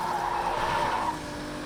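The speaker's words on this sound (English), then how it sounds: "Perfect time to pop that drift, Seb." Car drifting with loud tire squeal in the Fast and Furious Crossroads racing game, a steady screeching skid over engine drone that eases off near the end.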